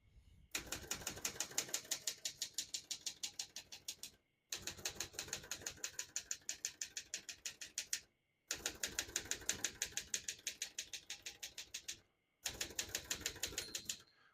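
Keys striking paper on a 1972 Olivetti Studio 45 portable manual typewriter, steady rapid clacking in four bursts separated by brief pauses, close and crisp with no talking.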